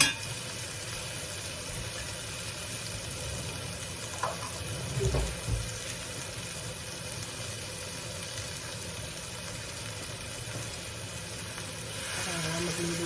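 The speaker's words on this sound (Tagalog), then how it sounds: "Talagyan po natin siya ng konting, konting tubig." A little water goes into Filipino bopis cooking in a pan over a lowered flame, giving a steady faint sizzle with a brief soft pour and bubbling burst midway.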